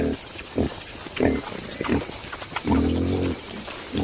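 A pygmy hog, the world's smallest pig, in the wild in India, gives a series of short grunting and squealing calls in irregular bursts, close and fairly loud, with one longer drawn-out call near the middle.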